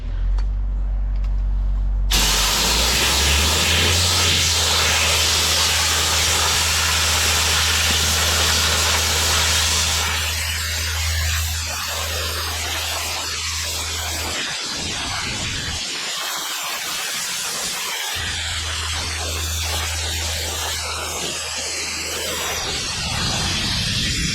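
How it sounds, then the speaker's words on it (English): Loud, steady blast of an air knife driving compressed air into mulch and dirt around the roots of a tree planted too deep, a hissing roar with a low rumbling base that runs almost unbroken, with a couple of brief gaps. "Danny's gonna grab the air knife and blast"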